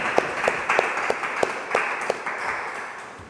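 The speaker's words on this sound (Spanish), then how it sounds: "Un aplauso." Scattered audience applause follows a poetry recital at a foundation's poetry gathering, a brief patter of individual claps of moderate loudness that thins out, with no voices over it.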